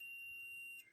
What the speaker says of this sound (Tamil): பீப்னு வந்து சவுண்ட், அதாவது ஷார்ட் சர்க்யூட் இந்த மாதிரி ஷார்ட் ஆகும்போது சவுண்ட் வரும்ல